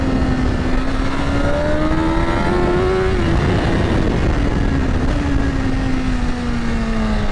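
A 2025 BMW S1000RR sport motorcycle engine screaming at high revs, a loud sustained buzzing tone that climbs, holds near the top, dips and holds again, heard close and alone without talk.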